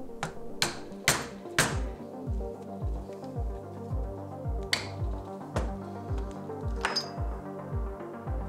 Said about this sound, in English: Then it was a matter of punching the holes.